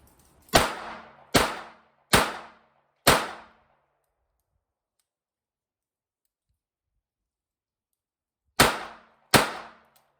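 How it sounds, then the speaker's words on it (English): A Smith and Wesson 34-1 .22 revolver fires Remington Golden bullets: four sharp, crisp shots in a quick rhythm, then a long silence, then two more, loud and close with no talking. "right now I'm shooting Remington Golden bullets through it"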